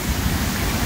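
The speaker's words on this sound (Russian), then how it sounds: "Рев воды." The Jägala waterfall in Estonia roars in spring, a loud, dense and unbroken rush of falling water heard close up.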